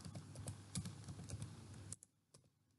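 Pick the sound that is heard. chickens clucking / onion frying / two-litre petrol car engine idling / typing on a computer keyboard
typing on a computer keyboard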